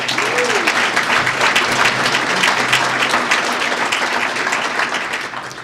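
Steady, enthusiastic applause from an audience at a credit union executive award event, with dense clapping filling the room for several seconds at an even level and a faint voice briefly audible underneath.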